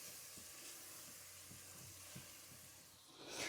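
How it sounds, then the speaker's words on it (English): Onions sizzle steadily in a pot for a fish chowder, a faint continuous frying hiss with soft scattered crackles and a brief stronger burst at the end, no voices. "I'm just going to let these onions cook for about 2 minutes"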